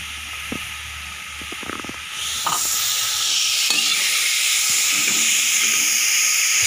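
Grated radish hits a pan of red chili, salt and turmeric, a few clinks giving way to a loud, steady sizzle and hiss that swells and holds close up.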